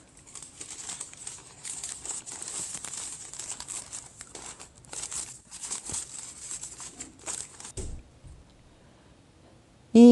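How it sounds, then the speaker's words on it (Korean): Continuous crinkling and rustling of plastic packaging being unwrapped from a potted phalaenopsis orchid, steady and close for several seconds, then easing off before a sudden loud bump at the end. "2가지를 구입을 했는데요. 포장 풀어 볼게요."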